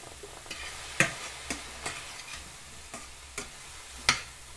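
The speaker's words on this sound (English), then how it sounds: "Deglaze it with a little bit of sherry." Cooking sherry hits a hot pan while vegan taco filling is being made oil-free, giving a low steady sizzle broken by several sharp clicks and scrapes of a utensil at uneven intervals, close by and fairly quiet.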